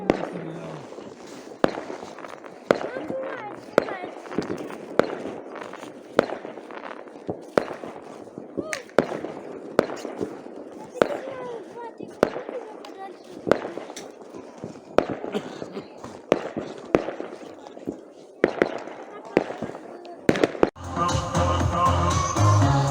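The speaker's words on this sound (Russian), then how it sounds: "Везде салюты." Outdoor New Year fireworks crack and bang repeatedly, near and far, in an irregular barrage with a faint background hum and a few voices.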